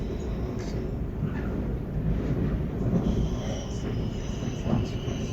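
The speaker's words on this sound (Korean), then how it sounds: "다른 기차가 지나갑니다." A train rumbles past nearby with a continuous low roar and faint metallic squeals, heard steadily from aboard another train in Switzerland.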